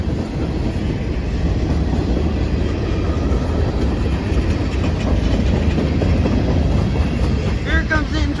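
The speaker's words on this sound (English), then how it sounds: "Here comes the end train" The tail end of a CSX freight train rumbles past in the rain, a loud, steady roar of rolling cars and wheel noise close by. Faint high squeals come in near the end.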